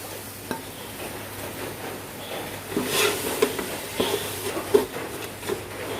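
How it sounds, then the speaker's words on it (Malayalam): Masala with sliced tomatoes fries in coconut oil for fish biryani, a low sizzle under stirring that grows busier and louder midway, with scrapes and light knocks of a utensil in the pan. "ഇതെല്ലാം ഏകദേശം നന്നായിട്ടൊന്ന് വഴറ്റിയെടുക്കാം. 3 തക്കാളി സ്ലൈസ് ചെയ്ത് വെച്ചിട്ടുണ്ടായിരുന്നു, അത് ഞാൻ ഇതിലേക്ക് ചേർത്ത് കൊടുക്കുകയാണ്."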